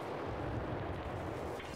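An enemy tank blows up in the tank combat video game Land of War, a dense, sustained roar of blast and rumble with no clear onset, heavy low-end filling the short stretch.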